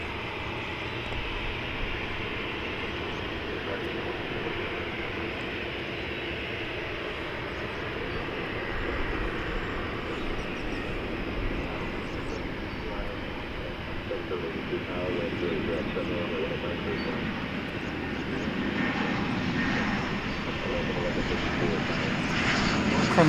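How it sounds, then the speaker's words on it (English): An Airbus A320 jet at DFW Airport gives off a continuous broad engine roar that slowly swells, heard from some distance under steady commentary. "It's an Airbus A320."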